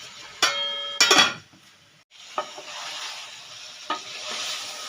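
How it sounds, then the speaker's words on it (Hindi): Chicken korma being stirred in a cooking pot, with a few sharp metallic clinks of the spoon against the pot followed by a soft continuous sizzle and occasional scraping. "अब इनको मिक्स करेंगे अच्छे से"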